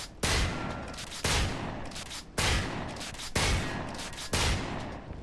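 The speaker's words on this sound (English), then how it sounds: "The second shotgun, guys, is quite a famous one. Is the SPAS 12, and it is like that." SPAS-12 shotgun fired in Call of Duty: Future Warfare, five loud blasts spaced roughly a second apart, each sharp crack trailing into a booming decay with no voices.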